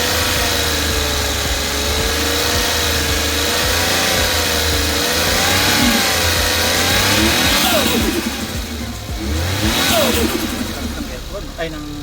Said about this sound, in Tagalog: Ang lakas ng ano niya, ng turbo niya.